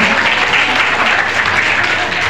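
Audience applauding at a 60th birthday celebration, a steady, dense wash of clapping that holds at an even loudness for the whole stretch without pauses.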